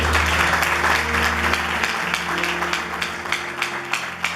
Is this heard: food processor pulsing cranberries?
no